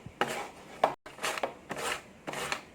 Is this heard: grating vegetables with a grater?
yes